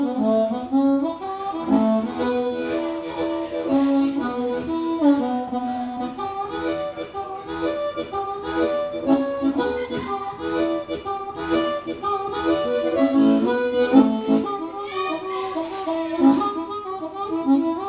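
A harmonica played through an amplifier with no effect pedals gives a clean, moderately loud, continuous melodic line with bending reedy notes and chords, heard alone without talk.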